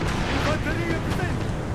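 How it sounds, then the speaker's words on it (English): Austrian cannon fire rumbles through a large Napoleonic battle at Waterloo in Napoleon: Total War, a dense, continuous roar of booms blending into heavy battlefield noise. "So you can see the Austrian cannon going after the Lifeguards afoot here."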